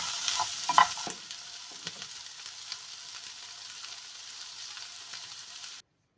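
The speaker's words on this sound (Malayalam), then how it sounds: "മീഡിയം ടു ഹൈ ഫ്ലെയിമിലിട്ട് നന്നായിട്ടിട്ട് മൂപ്പിച്ചെടുക്കണം. ഇടയ്ക്കിടയ്ക്ക് ഇളക്കിക്കൊണ്ടിരിക്കണം" Okra fries and sizzles in a pan over medium to high flame while a spoon stirs and scrapes it, a steady close hiss with a few clattering stirs before the sound abruptly cuts off.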